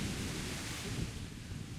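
A sustained low rumble of thunder with a wash of broadband storm noise rolls steadily in a thunderstorm inside the video game Kingdom Come Deliverance, loud and unbroken with no speech.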